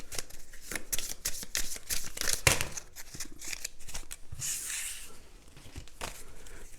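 Tarot-style cards are shuffled close up, making papery riffles, slaps and crinkling rustles in quick irregular bursts.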